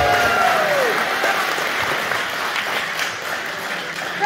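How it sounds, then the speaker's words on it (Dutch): An audience at a local sports event applauds in a dense, continuous wash of clapping, with a faint whistle-like tone early on and a slight easing in loudness toward the end. "Even applaus"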